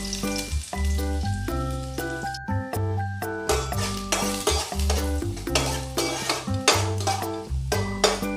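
Chopped garlic sizzling in hot oil in a kadai for a horse gram dal with fish, a close crackling fry broken by repeated metal spoon clinks and stirring knocks against the pan, no voices.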